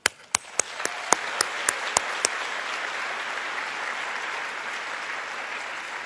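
A crowd at a State of the State address in Brooklyn breaks into sustained applause after a few sharp, separate claps, swelling into a steady wash of clapping from a large audience.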